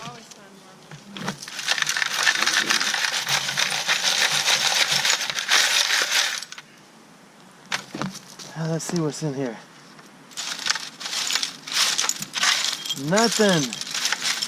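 Glass shards and rocks rattle and scrape through a homemade dirt sifter at an old bottle dump, a dense, loud shaking that stops and starts again, with people talking close by in between.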